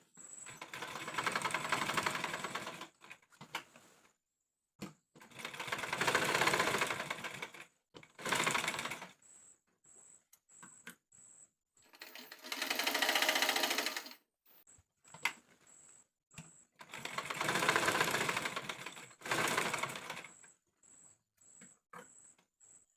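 A sewing machine runs a half-inch shoulder seam on a one-piece umbrella-cut churidar, working in several loud bursts of fast stitching with short pauses and lighter taps between them.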